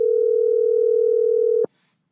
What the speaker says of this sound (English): So we're going to call this number right now and see if somebody picks up.